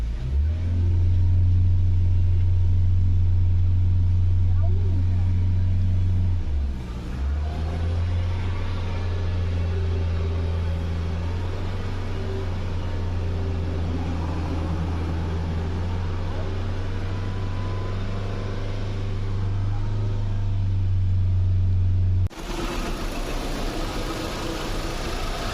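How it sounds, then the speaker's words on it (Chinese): A motorcycle engine, freshly cleaned of heavy carbon buildup without removing the cylinder head, idles steadily close by with a deep even hum, then dips and picks up again as it is revved, the tone shifting near the end. "怠速平稳，加速有力。"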